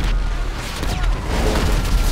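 A rocket explosion in GTA 5 makes a loud, sustained booming rumble, dense and close, with no talking.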